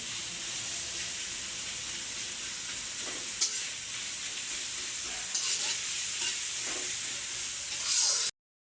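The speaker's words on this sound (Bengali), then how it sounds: "মরিচ পেঁয়াজগুলো ভাজা হয়ে গেছে," Chilies and onions frying in a pan, a continuous close hiss and sizzle with occasional soft stirring taps, ending abruptly.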